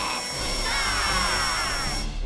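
High-pitched whirring of small pocket drills in an animated cartoon, a loud continuous mechanical whine that rises slightly and then cuts off abruptly.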